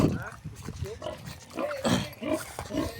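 A pig on a farm grunts repeatedly in short, low bursts close by, with a person talking over the animal noises.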